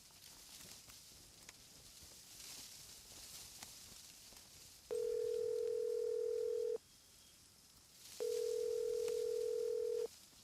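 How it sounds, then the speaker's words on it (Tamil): An outgoing call rings unanswered on a telephone: two long, steady ring tones about two seconds each, separated by a pause, over faint room noise and light footsteps. "பெத்த அம்மா தானே ஃபோன் பண்றேன், எடுத்து தொலைக்கலாம்ல"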